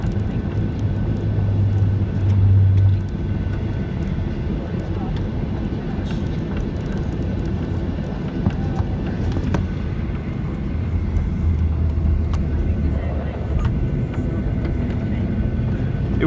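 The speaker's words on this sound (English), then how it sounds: "these are the steel brakes, which I love to hear" Ryanair Boeing 737-800 braking with steel brakes on the runway after landing at London Stansted, a steady loud cabin roar with low droning hum throughout, heard from inside the plane.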